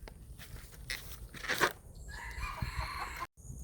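Chickens, including Thai native bantam-type birds, clucking with a rooster crowing nearby, steady close poultry calls over faint rustling with a brief break near the end.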